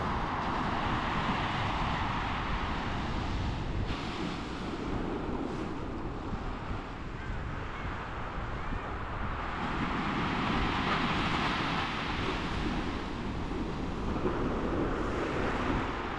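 Continuous roar of rough sea surf mixed with strong wind buffeting the microphone, steady and loud throughout with no voices.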